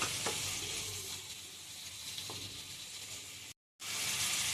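Onions and green chillies fry in a pan with ginger and garlic, giving a steady soft sizzle with a few scraping stirs of the spoon and a brief break near the end.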